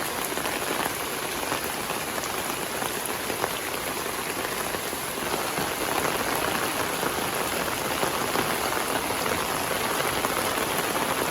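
Heavy monsoon rain drums on a village home for a long unbroken spell, a loud, dense, constant wash of drops striking surfaces, with no voices over it.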